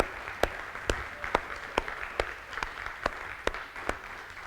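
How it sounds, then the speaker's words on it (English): A church congregation applauds its pastoral staff, with faint crowd clapping carried by sharp claps in an even rhythm, roughly two per second, over a quiet hall. "Would you give them an applause to let them know how much you care for them today?"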